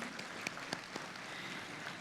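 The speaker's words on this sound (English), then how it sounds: "Yes, round of applause." Audience applause at the Los Angeles Police Museum gala, a faint, steady patter of many hands clapping in a large room.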